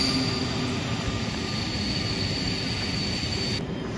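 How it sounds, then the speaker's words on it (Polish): Intercity Kujawiak passenger train pulling into a station in Warsaw, a steady loud rumble of rolling wheels with a thin high squeal held throughout, heard alone without talk. "Wjeżdża pociąg Intercity Kujawiak z Bydgoszczy Głównej do Chełma."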